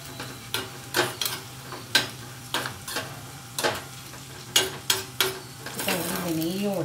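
Ingredients for jaggery pongal roast in ghee over a slow flame, with a steady light sizzle punctuated by about a dozen crisp spoon taps and scrapes against the pan, and a voice starting at the very end.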